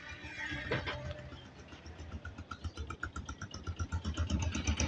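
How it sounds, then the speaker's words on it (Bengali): A New Holland 3230 tractor engine in fresh running condition chugs steadily at idle, a rhythmic, mid-pitched diesel knock that grows more pronounced toward the end, heard close with no talking. "গাড়িটা নিউ হল্যান্ডের বত্রিশ তিরিশে ফ্রেশ কন্ডিশনের রানিং গাড়িটা"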